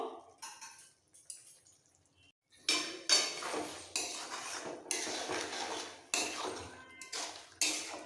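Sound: stirring spices into cabbage and fish head curry in a pan

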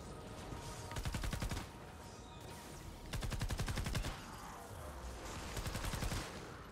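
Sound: gunfire in the video game Fortnite Save the World

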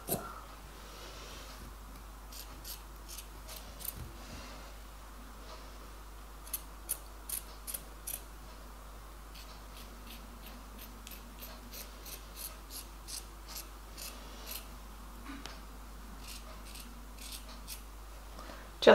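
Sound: scissors cutting a t-shirt

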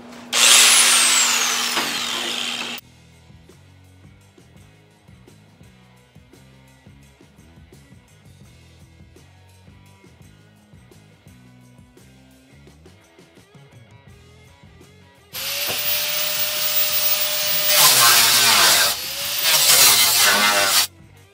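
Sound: pneumatic cutoff tool cutting metal

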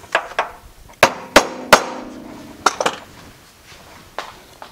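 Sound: hammer tapping a fastener on a Miata

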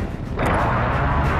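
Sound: precision airstrike explosions in Call of Duty: Modern Warfare video game

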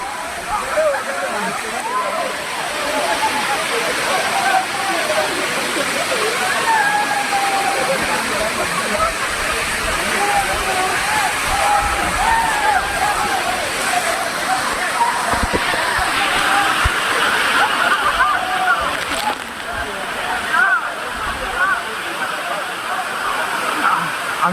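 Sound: Aagaya Gangai waterfall, Kolli hills

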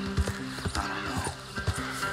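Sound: horses trotting in the video game Red Dead Redemption 2

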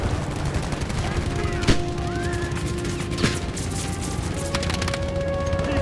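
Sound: gunfire in video game Battlefield 5

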